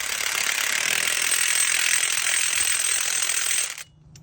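Axle nut being tightened onto a 2006 Buick LaCrosse wheel hub, a steady loud ratcheting whir running about three and a half seconds before stopping abruptly.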